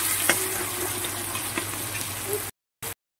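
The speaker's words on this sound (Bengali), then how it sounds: "পেঁয়াজগুলোকে একদম লাল লাল করে ভেজে নেবে।" Onions fry in oil over a medium flame, giving a steady close sizzle with faint stirring. The sound cuts out abruptly near the end, with a brief burst in between.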